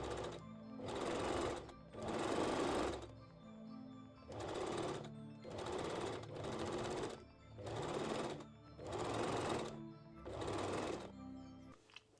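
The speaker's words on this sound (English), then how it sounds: "pin and sew the top and bottom edge with adding the elastic to the seam" A sewing machine stitches the top and bottom edges of a full-bust bikini top with elastic sewn into the seam, running in seven steady bursts separated by short pauses, close and fairly quiet with no talk.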